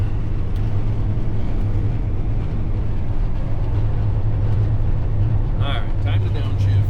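A steady, loud low engine drone from a van climbing a hill in -33°F cold, with constant road rumble throughout and a faint rattle near the end.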